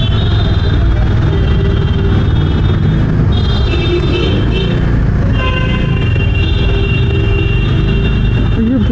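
A road traffic jam built up around a stopped bus, with a steady, loud rumble of engines and long, sustained tones of vehicle horns sounding over the din.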